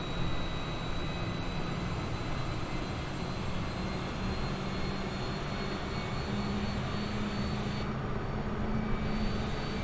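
Steady jet engine drone from a Boeing 787-8 in American Airlines livery in Microsoft Flight Simulator 2020, flaps extended on approach, a continuous broadband roar that holds level throughout with no voices.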